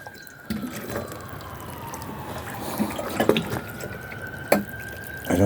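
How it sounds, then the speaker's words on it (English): Water trickling and dripping in a garden as a little is poured, a soft close stream with faint splashes and occasional louder drips, no talking. "Just a little bit of water,"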